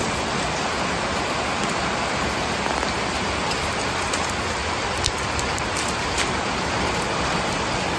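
Steady, heavy rain pouring down without pause, a dense even wash of noise throughout with no voices.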